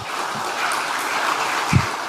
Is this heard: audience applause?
yes